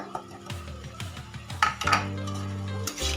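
A spoon scrapes and clinks against a pan while crushed peanuts are stirred into cooked onion greens, with irregular metallic knocks and scraping strokes close up.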